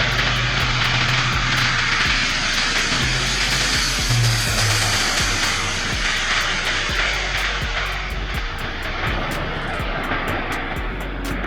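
An Airbus A400M military transport plane runs its turboprop engines, a loud, sustained, deep roar with a rhythmic propeller beat pulsing through it and no voices.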